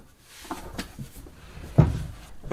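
Laundry cabinet doors are opened and shut as they are adjusted, giving a few light knocks and then one sharper closing thud near the end, close by in a quiet room.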